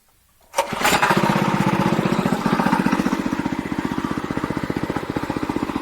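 A STIHL farm machine's engine fires up after a short silence, catching abruptly and settling into a loud, steady, rapidly pulsing run close by with no talk.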